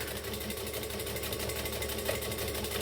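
A Vixen sewing machine running steadily through a long decorative stitch, a dense, even mechanical whir with rapid regular pulsing and no break across the stretch, loud and close with no speech.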